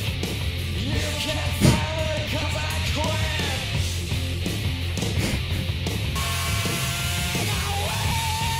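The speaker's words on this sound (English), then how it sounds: "That visceral scream. Oh, this track is like blood curdling." Harsh, distorted screaming vocals from a grunge track yell over heavy, grinding rock instruments, a raw and sustained vocal strain throughout.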